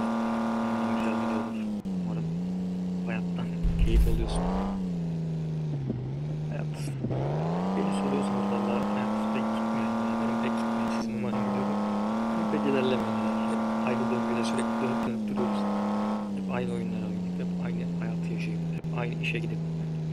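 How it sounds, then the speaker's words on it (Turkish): A Mercedes AMG C63 engine in the video game Truck Simulator Ultimate drones loud and close with a steady tone, dipping and rising briefly a few times as revs shift, with a voice talking over it. "Aracın sesi umarım size geliyordu. Çünkü gerçekten güzel bir sesi var aracın."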